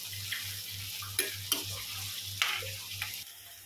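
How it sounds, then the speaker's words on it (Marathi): Onion and green chili sizzle hard in oil over a high gas flame, a steady frying hiss punctuated by several sharp stirring scrapes, close and loud, with a low pulsing hum underneath. "तर आपल्याला फास्ट गॅसवर कांदा आपला व्यवस्थित फ्राय करून घ्यायचा आहे."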